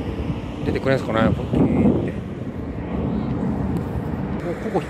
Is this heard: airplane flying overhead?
yes